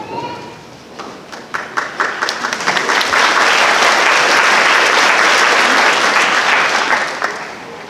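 Loud, dense applause from an audience filling a hall at a high school senior awards night, starting with a few scattered claps and swelling into sustained clapping that fades toward the end.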